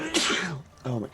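One abrupt, forceful sneeze bursts out, followed moments later by a person speaking.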